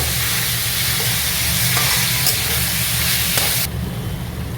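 Chicken for chilli garlic chicken noodles sautés in a pan over a medium-high flame, giving a loud, continuous close sizzle with stirring scrapes that softens just before the end, with no talking.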